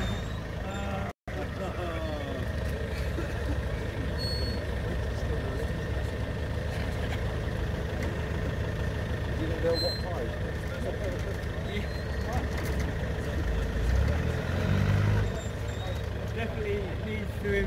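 A Land Rover labours through deep mud at a muddy bug-out vehicle meet-up in the UK, its engine droning steadily and loud throughout with a brief dropout early on and rising strain near the end.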